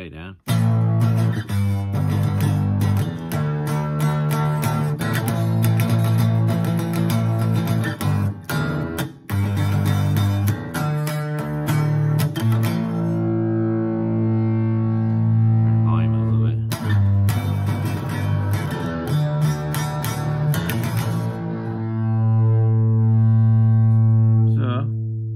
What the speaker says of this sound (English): Minimal distortion. This is like maximal distortion.